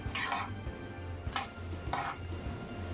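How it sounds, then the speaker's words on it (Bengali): A spoon clinks and scrapes against a pot while coconut paste is mixed into bottle gourd with lentil dumplings (bori), three or four bright metallic taps over a low background hum. "নারকেল বাটা লাউ বড়ির সাথে খুব ভালো করে মিশিয়ে নেব"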